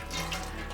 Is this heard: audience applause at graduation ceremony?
no